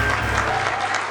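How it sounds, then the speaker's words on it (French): Steady applause from a small group fills the moment, a continuous patter of clapping with no voices over it. "Applaudissements pour Dalois."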